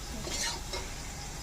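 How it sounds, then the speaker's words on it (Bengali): Potatoes and soybean chunks hit hot oil over fried onion, garlic, chilli and ginger in a home kitchen, giving a steady loud sizzle with a brief stirring swell near the start, no talking. "মশলা ভাজা হয়ে গেছে, এখন আমি আলু আর সোয়াবিনটা দিয়ে দিলাম।"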